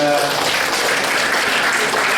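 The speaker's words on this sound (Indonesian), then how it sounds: "Tepuk tangan dulu untuk Hendra." Audience clapping fills a training seminar hall, a steady dense wash of many hands applauding loudly and continuously with no talk over it.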